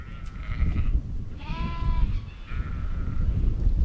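Sheep on a farm bleat several times close by, a wavering cry standing out around the middle and another toward the end, over steady rustling and shuffling of the flock being fed stale bread.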